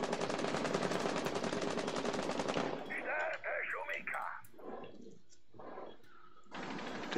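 Rapid bursts of automatic gunfire from the video game Rainbow Six Siege, loud and dense for the first few seconds, then giving way to a voice talking, with the firing returning briefly at the end.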